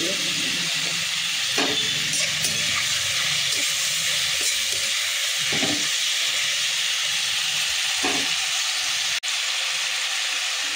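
Tomatoes and onions fry in oil, a steady hiss and sizzle with occasional clicks and stirring sounds, heard close throughout.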